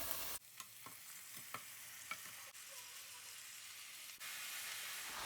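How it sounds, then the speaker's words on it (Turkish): Asphodel greens (çiriş otu) tip into a pan of caramelized onions, bringing a soft steady frying hiss with a few scattered stirring ticks and knocks, fairly quiet and without speech. "soğanlarımız iyice kavrulup karamelize olduktan sonra hemen çiriş otumuzu döküyorum"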